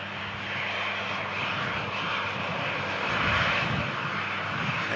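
A Pegasus passenger jet arriving from Zakynthos produces a steady, broad engine roar at an airport, holding a fairly constant level with a slight swell toward the end.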